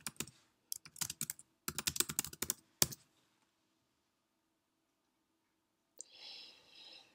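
Short bursts of close, crisp typing on a computer keyboard fill the first three seconds as a comment is entered. Near silence follows, and a faint rustle comes at the end.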